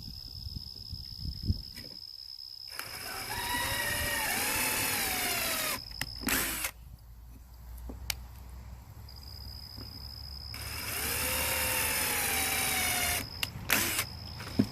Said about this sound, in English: now that you've got your 3 holes drilled out right there